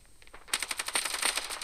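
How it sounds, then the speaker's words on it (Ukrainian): Machine gun fire in the shooter game Standoff 2: after a quiet start, a rapid burst of rattling shots rings out loud and close, with an even, fast rhythm lasting about a second. "Оце кулемет."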